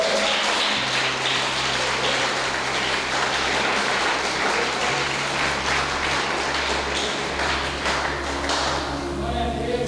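A church congregation applauds in a dense, sustained wash of clapping lasting around ten seconds, with a low hum and some murmuring voices underneath.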